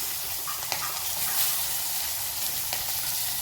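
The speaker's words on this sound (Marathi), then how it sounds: "फोडणी करत आहे. फोडणी आता या फोडणीमध्ये मेथ्या आणि जिरं टाकलं." Fenugreek and cumin seeds sizzling in hot oil for a tempering, a steady close crackling hiss with a few small pops, no voices.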